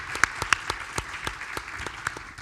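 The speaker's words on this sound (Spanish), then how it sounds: "Quiero pedir un gran aplauso para Macarena." Audience applause for a panelist at a Chilean business sustainability panel, a modest crowd clapping at a moderate distance, individual claps distinct and steady for a couple of seconds.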